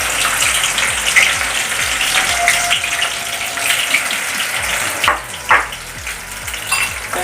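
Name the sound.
okra sliced into rounds frying in hot coconut oil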